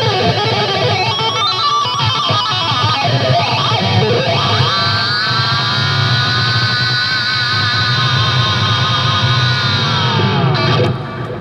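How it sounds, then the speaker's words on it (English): An electric guitar runs through a Dunlop Crybaby wah-wah pedal into an Orange amp, a dense, loud, distorted wash of sweeping tone that sustains almost the whole time before cutting off abruptly near the end. "It's a Crybaby wah-wah, no less, by Dunlop"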